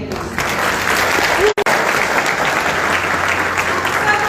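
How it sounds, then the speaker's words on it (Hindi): Participants at a session on Astonea products clap for themselves in sustained, loud crowd applause, with a brief dropout midway and faint voices beneath the steady clapping. "अपने लिए ताली बजाइए।"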